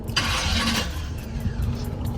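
A car engine running steadily as the car is eased forward into shade, with a brief louder burst of noise near the start before it settles into a low, even idle hum close by.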